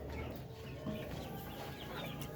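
Chickens kept outside on a farm clucking steadily throughout, a continuous busy flock murmur with occasional louder calls, moderately close and without talk.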